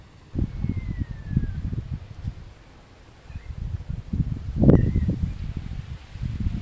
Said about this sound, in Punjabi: ਆਪਾਂ ਸਾਰੇ ਠੰਡੀ ਠੰਡੀ ਹਵਾ ਦਾ ਆਨੰਦ ਲੈ ਰਹੇ ਆ ਜੀ